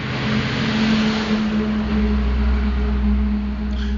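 A truck drives past with a steady low engine rumble and road noise, growing slightly heavier midway, heard alone without talk.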